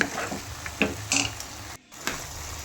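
Marinated chicken is stirred in stock with cornflour in a hot pan: soft sizzling under intermittent scraping and clinking strokes of a spoon against the pan, close and fairly quiet, with one brief silent gap.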